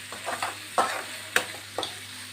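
Squid pieces and sliced onion fry in a pan with a soft sizzle, broken by a handful of distinct scraping strokes from a spatula stirring the mixture at an unhurried pace.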